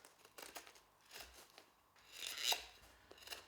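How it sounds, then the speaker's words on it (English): A knife carves a chamfer around the wooden handle of a bowl-turning hook, giving several short, close scraping strokes in an uneven rhythm, with no talking. "draw the knife towards you"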